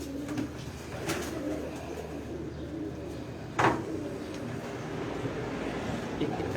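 Pigeons coo on a rooftop as a pigeon keeper releases them into a small net enclosure, with low murmuring calls over steady outdoor background noise and a brief sharp knock midway.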